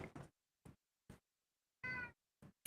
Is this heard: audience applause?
no